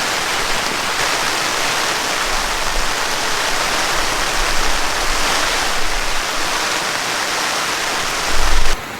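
Torrential rain drums on a camping tent in a constant, loud wash of noise, with a brief low thump near the end.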